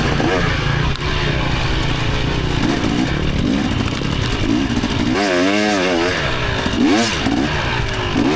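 A dirt bike churns through thick, soupy mud in a rut, its engine loud and close, revving and straining continuously with bursts of rising and falling pitch as the rider fights for traction.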